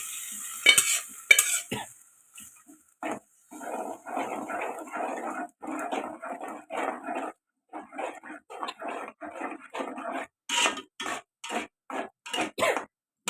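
Repeated scraping and clinking of a spoon stirring in a metal pot, in short rhythmic bursts, preceded by a brief splash of cooked lentils from a pressure cooker being poured in.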